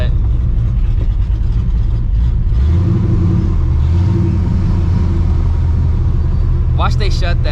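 A Ford Mustang 2V engine with a choppy cam rumbles loudly at close range, a heavy uneven idle lope that swells in the middle, with a voice speaking briefly near the end.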